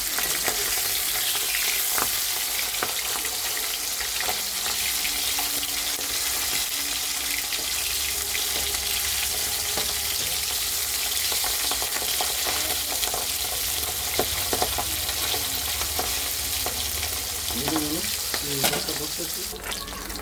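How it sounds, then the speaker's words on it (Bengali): Pieces of pabda fish frying in hot oil in a wok and being turned over, giving a steady, dense sizzle throughout with a few soft clinks and scrapes near the end. "তো মাছটা এক পিঠ উল্টে দেবো, মাছটা এক পিঠ ভাজা হয়েছে।"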